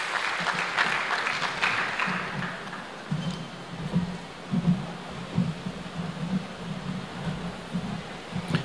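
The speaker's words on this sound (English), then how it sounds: "Let's clap for Professor Anthony" Applause from a lecture audience swells at the start, then settles into a thinner, uneven patter of clapping that continues to the end.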